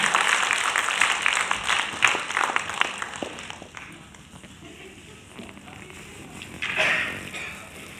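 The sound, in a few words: audience applause for seminar speakers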